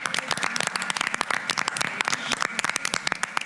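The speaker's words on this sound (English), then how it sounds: "let's give a round of applause to Yesenia" Applause from a small community council meeting audience for a departing summer intern, a dense patter of many hands clapping close by and fairly steady, with no talk over it.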